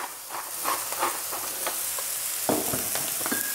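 Vegetables with cherry tomatoes sizzling in a frying pan as they are seasoned, a steady close crackle with scraping stirs and occasional clinks of the spatula, no talking.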